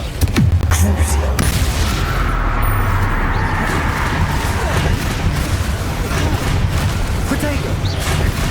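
Spell explosions from Bombarda and Confringo curses in Hogwarts Legacy on PC, heavy booms packed together in a loud, continuous battle under shouted incantations.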